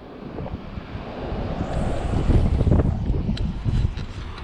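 Strong gusty wind roars across a lake at around 50 mph, buffeting the microphone with heavy, rumbling noise that swells and surges.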